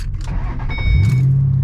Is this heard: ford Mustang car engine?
yes